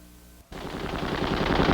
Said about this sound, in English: Today's Vulcans and miniguns are marvels of high-speed material handling.